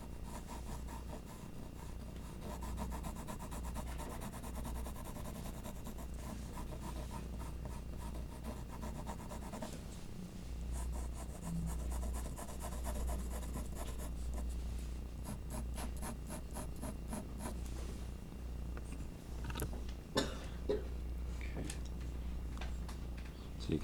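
A graphite pencil shades on paper for an isometric sphere drawing, making a faint, steady scratchy rubbing with quick back-and-forth strokes that continue throughout.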